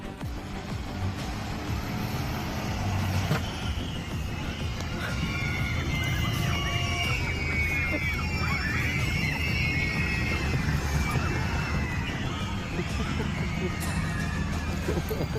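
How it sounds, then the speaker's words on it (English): A bus full of neighborhood kids screams and shrieks at a scary Halloween lawn display, a dense burst of high excited yelling over a steady outdoor rumble, with voices talking through it. "a bus full of kids from her neighborhood drove by and got the first scare"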